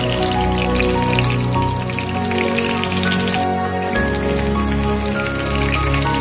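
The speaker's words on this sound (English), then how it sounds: "Heat oil in wrap pan and carefully dip the whole fish into the oil." A whole sea bream fries in hot oil in a wok, giving a dense, steady sizzle and crackle throughout, with a brief dip in intensity partway through.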